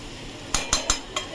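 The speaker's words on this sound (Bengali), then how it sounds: "গোলমরিচটা দিয়ে ভালো করে মিক্স করে ফিরছি" A utensil strikes the pan four times in quick metallic clinks while chowmein with prawns and black pepper is mixed, heard close over a faint background hiss.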